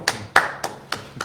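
A few separate hand claps at a borough council reorganization meeting, five sharp isolated claps spread unevenly over about a second, near and fairly quiet, with no talking.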